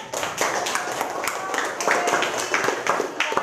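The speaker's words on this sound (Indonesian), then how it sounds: "Iya, berikan tepuk tangan." Students in a classroom give a round of applause, steady overlapping hand claps at moderate volume, close and continuous, with some voices mixed in underneath.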